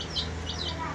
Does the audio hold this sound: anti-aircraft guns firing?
no